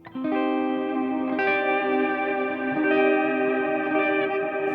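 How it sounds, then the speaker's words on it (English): Electric guitar through a Fractal FM3 with auto wah feeding a plex delay reverb rings out in sustained chords, swelling and shifting with long shimmering echo tails. "there's an auto wah behind the plex delay, or reverb, which is coming from the plex delay"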